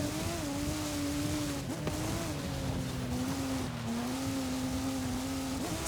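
A car engine in the racing video game Forza Horizon 5 drones steadily at high revs for several seconds, holding a near-constant pitch with brief dips as gears shift, loud and without talk.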